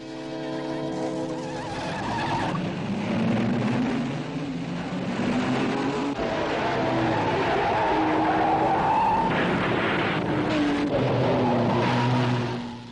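Early big-engined race cars roar around Indianapolis, with Wilbur Shaw's car going over the top; loud, continuous engine drone with shifting revs and screeching tires, close and unbroken.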